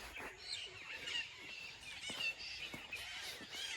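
Birds chirp faintly in short scattered tweets against a quiet outdoor background in Sauraha, Chitwan, Nepal.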